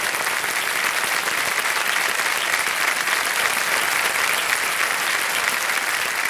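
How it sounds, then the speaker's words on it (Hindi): A studio audience on a quiz show claps in steady, dense applause that holds at an even loud level throughout, with no voices standing out. "ताली बज जाए के लिए।"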